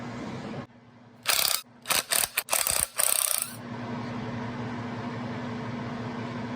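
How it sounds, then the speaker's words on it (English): Ratchet wrench clicking in several quick bursts while unthreading 12 mm bolts on a Toyota 4x4 solid front axle during a birfield teardown, close and loud, then a steady background hum remains. "these 12 millimeter bolts. I'm gonna unthread those now"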